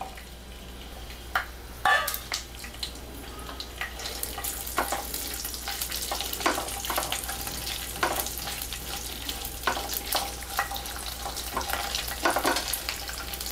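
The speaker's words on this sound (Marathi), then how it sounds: "त्याचबरोबर हा कांदा थोडासा लालसर होईपर्यंत आपल्याला परतून घ्यायचा आहे।" Whole spices, ginger, garlic and onion frying in oil for a white pea curry: a steady crackling sizzle with repeated sharp scraping stirs of a spoon against the pan, close and moderately loud, no talking.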